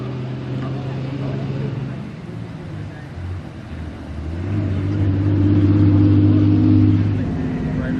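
A motorbike engine rumbles and revs in uneven surges as someone tries to start it, loud and close, rising to a sustained roar near the end.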